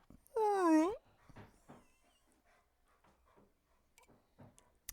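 A dog lets out a single rising, tremulous whimper lasting under a second, fairly close, followed by faint scattered sounds and soft background talk.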